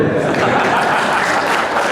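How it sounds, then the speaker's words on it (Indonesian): Audience at an Indonesian farewell-and-welcome ceremony for an agricultural office head applauds, a dense loud wash of clapping filling the room steadily throughout. "Ya tepuk tangan saya itu."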